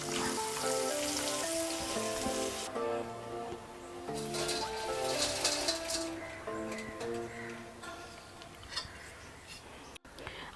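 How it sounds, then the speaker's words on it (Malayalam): Sliced potato chips deep-fry in hot oil with a continuous crackling sizzle, heard under background music. "ബാക്കിയുള്ളതും കൂടെ നമുക്ക് ഇങ്ങനെ വറുത്തെടുക്കാം."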